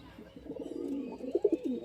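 Young pigeons in a rooftop loft coo softly, a few low, rounded coos rising and falling up close against a quiet background.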